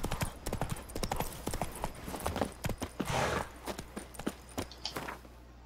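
Roach the horse running in The Witcher 3 on PS5, fast rhythmic clip-clop hoofbeats close and clear, with a brief surge of louder movement midway and no talking.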